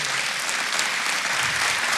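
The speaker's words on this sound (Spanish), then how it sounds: "Yo creo que Dios merece un aplauso." A church congregation breaks into dense, sustained applause. It is loud and continuous, a steady wash of many hands clapping without pause.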